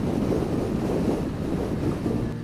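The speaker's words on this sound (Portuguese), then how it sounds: "Agora o vento está mais puxado." Strong Patagonian wind roars steadily across the microphone, a dense continuous low rumble with no pauses and no voices.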